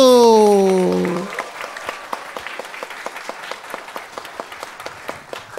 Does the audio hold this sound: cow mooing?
no